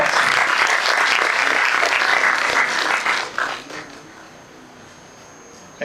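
Audience at a Delhi law event, Criminal Justice Research Cell, gives a dense round of applause for about three seconds before it thins and fades into a quiet room.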